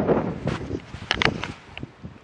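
Wind buffets the microphone in a gusty, rumbling rush in the Ruahine Ranges, with scattered rustling and crackling noises close by.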